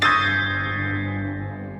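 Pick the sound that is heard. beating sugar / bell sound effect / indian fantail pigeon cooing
bell sound effect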